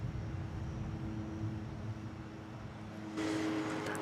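Jet aircraft at Dallas Love Field airport, a steady broadband engine rumble that swells noticeably louder near the end as the jet roars closer, with no talk.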